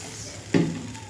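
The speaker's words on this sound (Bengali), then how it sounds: "লঙ্কা দিয়ে একটু নেড়ে চেড়ে জল দিয়ে দেবো" Chillies in a pan with added water give a brief, close stir and sizzle, one quick burst of frying hiss over a low background hum.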